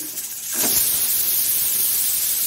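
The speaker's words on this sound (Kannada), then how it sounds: "1 ವಿಸಿಲ್ ಆಯಿತು." A pressure cooker cooking Mangalore spinach lets off its whistle: a loud, sudden rush of hissing steam with a thin high tone begins half a second in and carries on steadily to the end.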